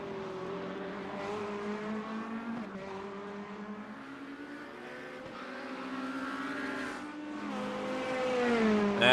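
GT3 race cars at a Detroit street circuit, engines droning and shifting in pitch as they work off a corner, a steady mid-distance roar that swells toward the end, no talk.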